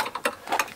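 A fastener being loosened on the pull-out couch-bed frame of a DIY minivan build, giving a few quick mechanical clicks and ratchet-like ticks, close and fairly quiet, with no talking.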